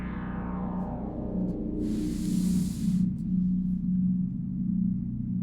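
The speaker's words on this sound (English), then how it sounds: "it started out with this super ominous, spooky bass sound." A dark, low synth drone rumbles steadily while a descending sweep fades out, and a burst of airy hiss briefly rises over it midway.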